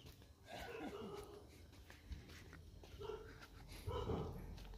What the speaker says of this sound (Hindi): और ये देखिए डॉगी